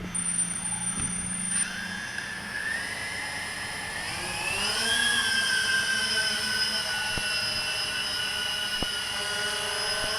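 Walkera QR X350 Pro quadcopter motors arming and spinning up, a tonal electric whine that rises in pitch and holds as a steady buzzing hum close by.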